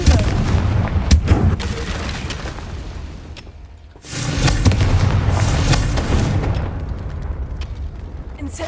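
A Confringo blasting curse in a Harry Potter film bursts as a loud, booming explosion, with heavy rumbling blasts filling the scene, a brief lull, then another sustained roaring detonation with crackling debris.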